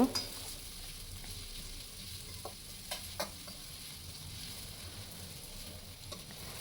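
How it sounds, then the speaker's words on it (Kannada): Onions for radish chitranna fry in a pan with a soft, steady sizzle. It is fairly faint, with a few small clicks and taps of stirring. "ಈರುಳ್ಳಿ ಅಷ್ಟೇ ಸ್ವಲ್ಪ ರೋಸ್ಟ್ ಆದರೆ ಸಾಕು ಪಿಂಕ್ ಕಲರಾಗೆ ಕಲರ್ ಚೇಂಜ್ ಆದರೆ ಸಾಕು ಒಂದು ಟೂ ಮಿನಿಟ್ಸ್ ಈ ಥರ ರೋಸ್ಟ್ ಮಾಡ್ಕೊಳ್ಬೇಕು"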